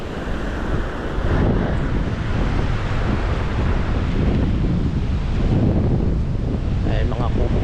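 Waves crash onto a sandy beach at Ilubayat, Real, Quezon, stirring up the sand. The surf roars continuously and loudly, heavily buffeted by wind on the microphone.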